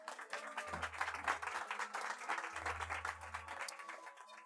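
A live audience claps for a volunteer at a Nerd Nite talk in Tokyo, a faint, uneven patter of applause with two low rumbling thumps beneath it.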